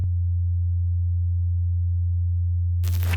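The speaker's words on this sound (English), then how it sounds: "this is how different tape parameters affect the simple sine wave from before" A simple low sine wave run through tape saturation holds as a loud, steady pure hum, with faint added harmonics above it and a brief burst of noise near the end.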